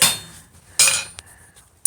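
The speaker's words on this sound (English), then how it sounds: "Do you see how her confidence is improving with each hammer blow?" Metal clinks from hammer blows at a forge, struck by a learner working hot metal: a few sharp separate strikes with gaps of quieter ringing between them.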